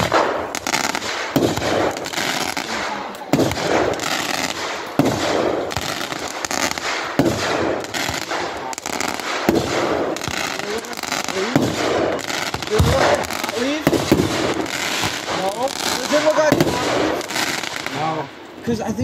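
Mortar fireworks bursting on the 4th of July, a dense run of loud, sharp booms and crackles, one after another, with people talking and exclaiming throughout.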